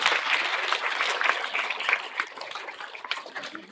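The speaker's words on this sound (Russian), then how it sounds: "поприветствовать аплодисментами в нашем городе" Sustained applause from a planetarium audience in Novosibirsk, a dense wash of many hands clapping that gradually thins and softens toward the end.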